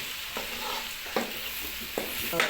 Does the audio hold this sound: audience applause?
no